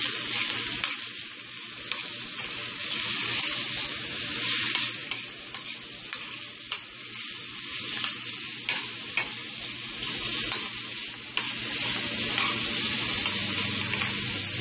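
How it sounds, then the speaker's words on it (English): Sofrito seasoning for Cuban red beans fries in oil in a pot, giving a steady, close, continuous sizzle with occasional stirring clatters and no talk. "I'm making the sofrito."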